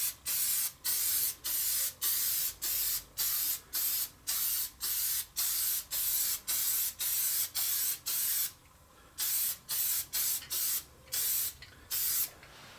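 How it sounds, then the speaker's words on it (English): Spray adhesive from an aerosol can hisses onto a paper chart in a long run of short, evenly spaced bursts, close and crisp, with brief gaps between them and a longer pause partway through. "we're going to get out our spray adhesive and give a nice even coat of adhesive to the front of our"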